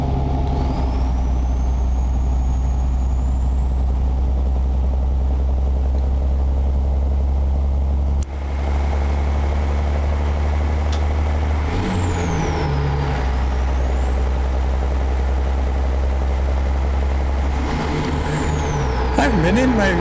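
A heavy truck engine drives steadily in American Truck Simulator with Ruda 379 and Mario's Elite Straightside mods, a deep, constant low drone with a faint whistle rising and falling above it and a brief air-brake hiss partway through.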